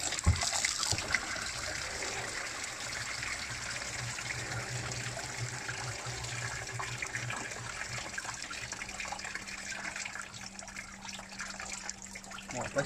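Coolant drains from a Fiat 2.3-litre 130 hp engine during a timing belt job, a steady close trickle and splash of liquid running continuously with faint background noise.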